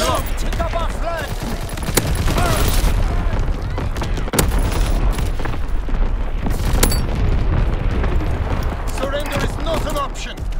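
A video game artillery salvo erupts in dense, continuous explosions and booms mixed with rapid gunfire, loud and close, while a voice talks over the barrage.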